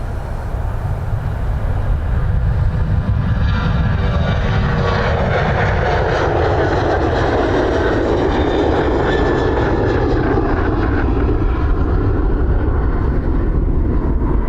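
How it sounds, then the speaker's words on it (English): A Ryanair Boeing 737-800 jet departs Dublin Airport, producing a loud, steady engine roar with deep rumble and a broad whooshing sweep that changes as the aircraft passes nearby, with no one talking. "This was our Ryanair off to Barcelona, 737-800 AS, again, specifically built for Ryanair."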